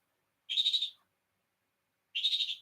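A pet bird calls twice, two separate bursts of rapid warbling, pulsing notes a couple of seconds apart, fairly faint with quiet between.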